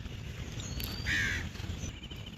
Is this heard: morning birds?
yes